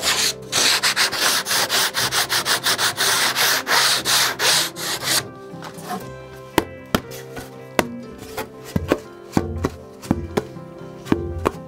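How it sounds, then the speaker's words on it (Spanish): Rapid rhythmic scraping of sandpaper on a wooden Peruvian cajón box drum being built, loud and close, followed by a run of sharp knocks and taps on the wooden box. "podemos echar una pequeña lijada"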